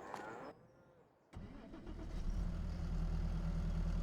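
Tractor engine in Farming Simulator 22 starting up after a brief quiet gap, then settling into a steady low rumble that grows slightly louder and holds.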